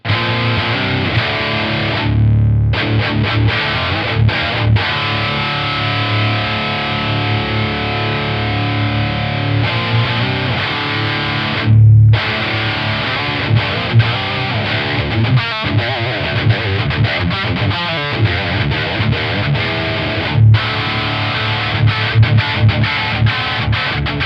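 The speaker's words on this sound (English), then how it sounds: "So if I crank the treble, you see what I mean?" Electric guitar through a Dover DA-GVP amp with the treble cranked, heavily distorted chords and riffs with brief pauses between phrases, loud and close with no talking.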